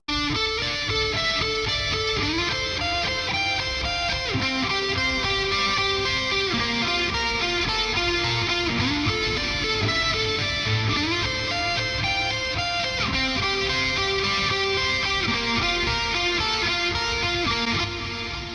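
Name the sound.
distorted electric guitar lead with delay, reverb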